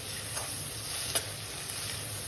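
Onion and capsicum sizzle softly in a pan while being stirred, a faint steady hiss with a single brief scrape of the spatula near the middle.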